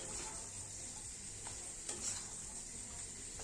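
Pre-fried fish being mixed with spice paste in a pan, a steady soft sizzle of oil with a few faint scrapes of the spoon, low and continuous with no talk.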